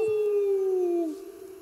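A human voice imitates a werewolf howl, sustaining one long, loud, wavering tone that slowly falls in pitch before trailing off into quiet.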